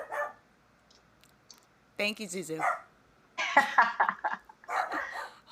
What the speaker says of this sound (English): Hold for some barking.